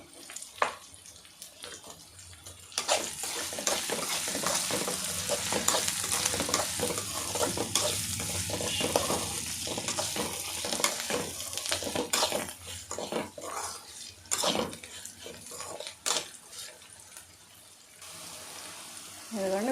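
Okra frying in a pan with chilli flakes, a dense close sizzle and rustling stir that swells and fades over about twenty seconds, with scattered clicks of a spoon against the pan and no voices.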